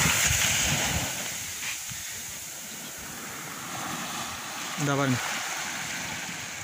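Sea waves wash onto a sandy beach with small crabs scurrying about, a steady rushing surf under wind noise, while someone talks over it.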